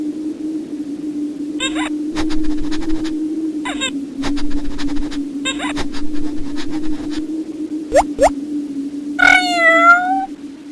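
A cat meows several times in a row over a steady low hum, the cries short and sharp at first, then a longer, rising wail near the end, all close and fairly loud.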